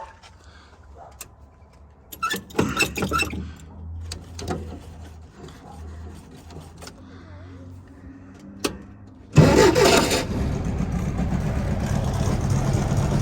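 A small engine, just fitted with a rebuilt carburetor, turns over with a few cranking bursts, then catches and fires up into a loud, steady, slightly rough run close by. Birds coo faintly in the background before it starts.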